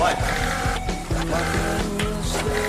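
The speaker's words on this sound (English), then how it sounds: "The printer, the printer diarrhea going on." A kitchen ticket printer chatters out orders in rapid, regular mechanical bursts, close and busy, with a voice speaking over it.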